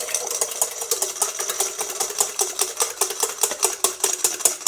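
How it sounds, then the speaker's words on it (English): Three eggs are whisked quickly in a bowl while lemon curd is being made. Rapid, rhythmic metallic clicking and tapping comes from close by and carries on steadily throughout. "I've got my 3 eggs ready to go, and I'm just going to whisk them."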